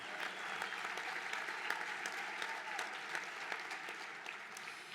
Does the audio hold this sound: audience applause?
yes